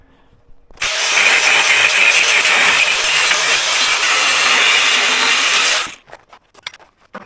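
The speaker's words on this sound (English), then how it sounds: "I think I'm going to take my grinder and nip this off" Angle grinder cutting through the steel gooseneck of a trailer hitch, a loud continuous harsh grinding whine lasting about five seconds before spinning down into scattered clanks.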